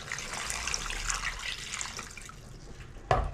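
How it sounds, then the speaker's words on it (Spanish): Water pours into a cooking pot in a home kitchen, filling it over yuca, corn, squash and cabbage leaves for Colombian sancocho; a steady splashing flow runs throughout, ending with a sharp louder knock or splash near the end. "Vamos a agregar agua."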